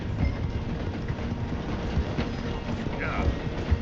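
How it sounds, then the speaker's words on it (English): In Red Dead Redemption 2, a steam train slows as it passes through the station in the town of Rhodes, making a continuous loud rumble and rattle of wheels with faint clip-clopping hooves mixed in. "The train is slowing down to go through the station."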